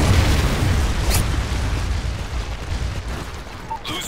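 A Predator missile blast in Call of Duty Modern Warfare 3 multiplayer, a loud booming explosion rumbling at the start and fading through the clip, with faint scattered pops afterward.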